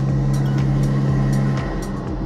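A modified Toyota Innova fitted with a turbo hums steadily with a low, even engine drone, punctuated by faint, regular hissing puffs. The tone holds close and constant throughout.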